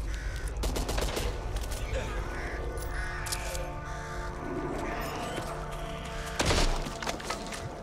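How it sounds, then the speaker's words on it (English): Crows cawing in the co-op zombie shooter Back 4 Blood, a flock of harsh, repeated caws mixed with bursts of gunfire and some game voices. "Watch out! Birds!"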